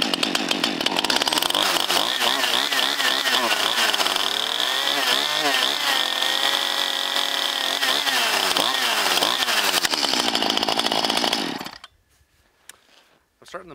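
Small chainsaw running loudly and close on full choke after a cold pull-start, its engine revving and wavering for about eleven seconds before cutting off into near silence with faint handling sounds.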